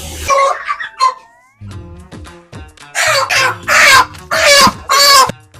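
Close, loud squawking and clucking from poultry comes in several harsh bursts, with excited cackling calls between short pauses.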